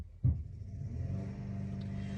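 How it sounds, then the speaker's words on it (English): A small lawnmower engine runs outdoors, a steady low rumbling drone that kicks up suddenly and then holds, heard from a distance through walls. "Chris and Sam are outside working on a lawnmower."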